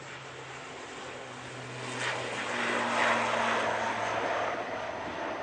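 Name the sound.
airplane rotating on takeoff at Manchester Airport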